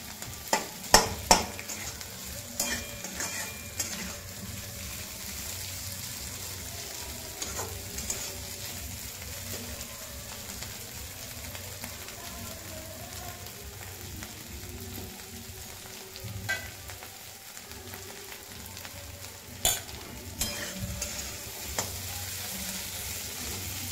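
Potato and green chili fry and sizzle in a pan as a spoon stirs them, a steady soft crackle broken by occasional scraping clinks against the pan.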